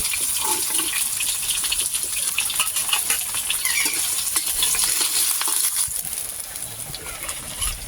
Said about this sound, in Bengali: একই তেলে আমি আবারও বাকি মাছগুলো ভেজে নেব।